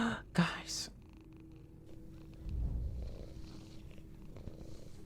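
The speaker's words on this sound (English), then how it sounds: "I hear a cat. Do you guys hear?" A house cat purring softly and steadily nearby, a low rumbling hum beneath quiet room sounds, with a brief burst of noise early on and faint whispery breaths.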